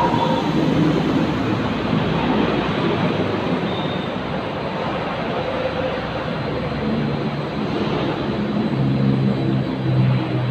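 Candlenut sieving and cracking machine with four screens sorting whole kernels, halves, grits and dust, running with a loud, steady, dense rumble and rattle that holds constant throughout.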